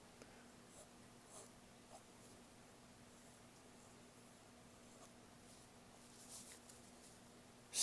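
An OMAS Paragon celluloid fountain pen scratches softly across paper, faint close strokes in short bursts over a quiet room hum.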